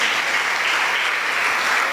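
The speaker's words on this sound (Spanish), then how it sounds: "Dale fuerte ese aplauso a Jesús" A church congregation at a thanksgiving service claps loudly for Jesus, a brief, continuous, dense roar of many hands with no gaps.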